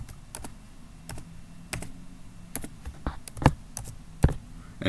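A password being typed on a computer keyboard during a Linux install script, heard as close, irregular clicks and taps of individual keys with short pauses between, ending in a firmer keystroke, with no talk.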